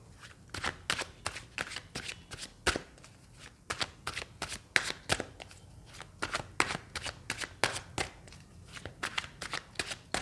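Tarot cards riffling and slapping together in a steady run of sharp, papery bursts, close and fairly quiet, with no talking over them.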